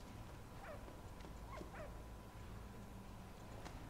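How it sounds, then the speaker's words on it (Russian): A dog in the World War I video game Valiant Hearts gives several short, faint yipping barks spaced irregularly over a low steady game background. "стопэ. Собака."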